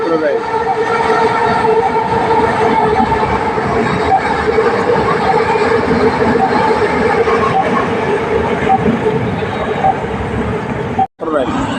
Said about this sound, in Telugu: metro rail, Malaysia metro rail